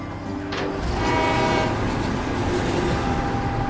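A train runs steadily along a railroad in a farming setting, with a continuous loud rumble and clatter of wheels on track. A brief horn-like tone sounds early on.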